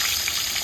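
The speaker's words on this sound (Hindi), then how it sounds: "फिर यहाँ मैं एग फ्राई कर रही हूँ" Eggs frying in a pan while making egg curry, a steady close sizzle and crackle with a constant hiss and no pauses throughout.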